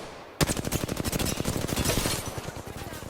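Automatic weapon fire in Apex Legends, a sudden loud burst of rapid, evenly spaced shots that keeps going for about three seconds, close and forceful.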